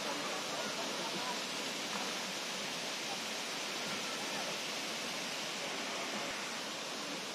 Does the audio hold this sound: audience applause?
no